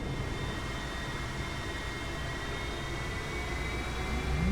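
Boeing 777 jet engines in the flight simulator X-Plane 11, a steady broadband roar with a faint high whine, constant and fairly loud throughout, rising slightly at the end, with no talking.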